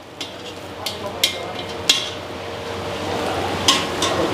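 Chicken for pepper chicken frying and being stirred in a pan: a steady low sizzle with scattered sharp clinks and scrapes of a utensil against the metal, close and moderately loud.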